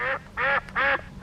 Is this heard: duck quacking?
yes